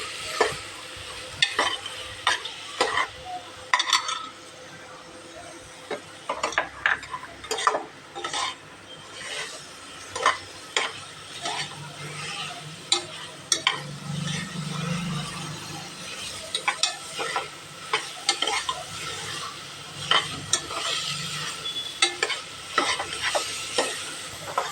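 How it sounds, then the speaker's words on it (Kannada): Palak seeds fry in ghee with a soft, continuous sizzle. A spoon repeatedly scrapes and stirs in quick, irregular strokes through the whole stretch, with no voices. "ಇದನ್ನು ತುಪ್ಪದಾಗ ಫ್ರೈ ಮಾಡ್ಕೊಳ್ಳೋದು, ಹಸಿ ವಾಸನೆ ಹೋಗೋ ಮಟ್ಟ ಇದನ್ನು ಫ್ರೈ ಮಾಡೋದು"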